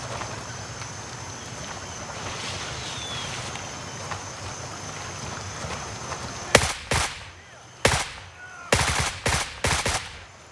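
AK rifle gunfire in the video game Gray Zone Warfare: after a stretch of outdoor ambience with wind, several sharp shots ring out, single and in short bursts, loud and close.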